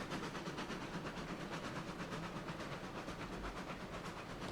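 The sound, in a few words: steam train in RailRoads Online video game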